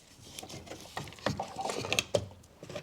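A car battery is lifted out of a 2005 Skoda Fabia 1.2 petrol, giving close, quiet plastic knocks, clunks and scraping rattles in uneven bursts.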